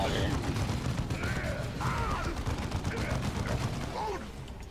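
Gunfire in the video game Dawn of War II, a dense, continuous rattle of shots and explosions with mechanical battle noise, heard steadily throughout at fairly close range.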